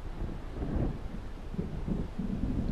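Low rumbling thunder from an approaching storm rolls through the scene in the video game Alan Wake, building in swells over a few seconds with no voices.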